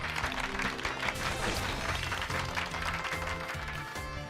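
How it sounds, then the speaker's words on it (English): Applause from a crowd in Pokémon Scarlet fills the clip, dense clapping over a steady bed of game music with held tones, staying even in loudness throughout. "Give Pikachu a round of applause."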